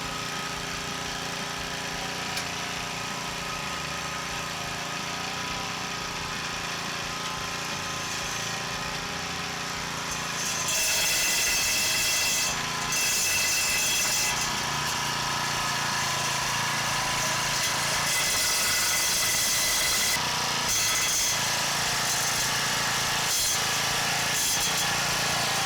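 Powermate gas lawn edger idling and then cutting along a sidewalk edge at a tilt, a steady small-engine drone that roughens and grows louder as the blade bites, with scraping bursts.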